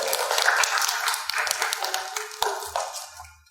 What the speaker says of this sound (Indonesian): tepuk tangan kepada Mbak Sofina ya